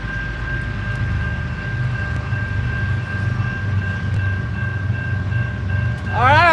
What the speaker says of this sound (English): This will be our MRL train.